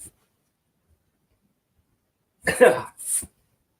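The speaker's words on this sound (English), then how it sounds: "I'm coughing." One person coughs in a short burst, two quick harsh coughs close to the microphone after near silence.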